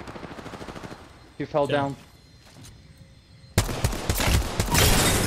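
A loud, dense burst of automatic gunfire breaks out near the end after a quieter stretch, close and sustained in an Apex Legends ranked match, with a player speaking briefly beforehand.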